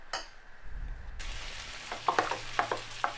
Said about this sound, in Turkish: Biraz da zeytinyağı ilave ederek karıştıracağım sosumu